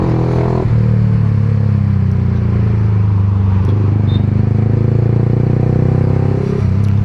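Yamaha R15M 150cc sport motorcycle at high speed, its exhaust droning in a loud steady roar close up, with a brief gear change early and another near the end, no talk.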